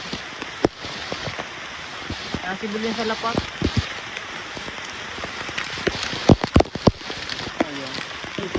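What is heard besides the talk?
rain falling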